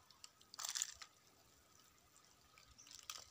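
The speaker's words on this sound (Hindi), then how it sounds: "तो हल्का हल्का पानी डाल देते हैं।" Water is poured gently from close by onto loosened soil around a tomato plant in a garden bed. A brief splashing trickle is followed by softer, fainter drips and a second short splash near the end.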